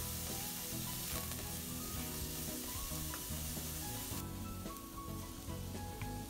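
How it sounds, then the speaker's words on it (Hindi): Slit green chilies with the seeds removed and a chopped medium onion sauté in a pan for dry veg Manchurian, giving a loud, dense, continuous sizzle with no talk. "सारी ही चीज़ों को हम अच्छे से सौते करेंगे।"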